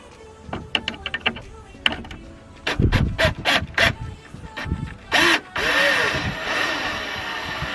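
Screws being tightened on an MP Style front lip for a 2015+ Subaru WRX STI: close, sharp ratcheting clicks in irregular bursts, followed by a steadier mechanical whir.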